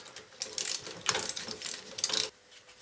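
A ratchet with a 24mm socket tightens a castellated nut on a Lotus Elan M100 rear hub during bearing adjustment, giving three or four short bursts of close, rapid metallic clicking separated by brief pauses.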